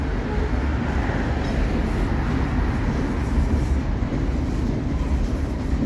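Wheeling & Lake Erie 617, led by EMD locomotives on jointed rail, rolls past in the evening on its way to Rook Yard in Pittsburgh, a loud, steady, unbroken rumble with no voices.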